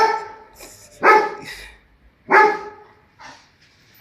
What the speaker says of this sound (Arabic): هو ده الكلب اللي عايزين يحميكوا.